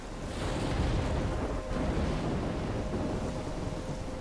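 Stormy ambience in the video game Life Is Strange: a steady, loud wash of wind and rumbling thunderstorm noise that holds constant throughout, with no speech.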